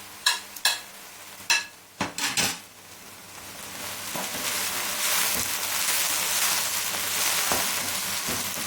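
Ginger garlic paste goes into light-brown onions for chicken karahi: a few sharp clinks of a spoon against the pan, then a rising steady sizzle of frying that carries on to the end.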